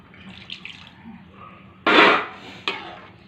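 A short splash of water poured into a pot of thick curd for eggplant more kulambu, one loud gush followed by a brief second trickle, against faint kitchen background.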